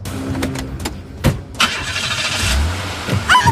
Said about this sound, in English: Ooh, yeah, chase after me in the car, Kenny.